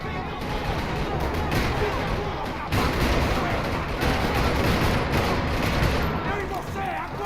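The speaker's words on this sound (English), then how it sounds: "Another parking lot rattling with gunfire" Rapid, continuous gunfire with dense bursts and booms in a Max Payne 3 firefight in a parking lot, steady and loud throughout with faint voices beneath.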